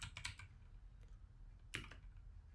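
Short bursts of quick typing on a computer keyboard, soft and close, with a pause between two clusters of key clicks.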